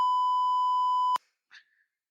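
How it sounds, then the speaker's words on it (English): A steady censor beep holds loud and unbroken for just over a second, then cuts off sharply. A brief faint voice fragment follows after a short gap. "can you say their name and then you just beep it out?"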